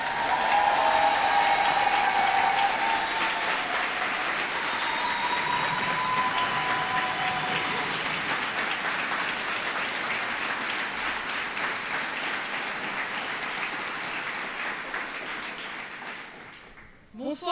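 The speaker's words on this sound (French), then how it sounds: "je vous demande évidemment de l'applaudir très très fort" Loud, sustained audience applause fills a French political campaign meeting of Révolution Permanente in Toulouse, greeting municipal candidate Vanessa Pedinotti; dense clapping and crowd noise hold steady throughout before fading sharply at the very end.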